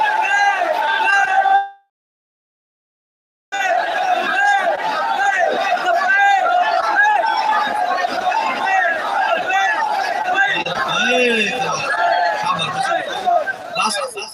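A large crowd at a TLP religious-political rally in Pakistan chants slogans in loud, sustained unison, with voices rising and falling in rhythm; a short break of silence comes early before the chanting resumes at full strength.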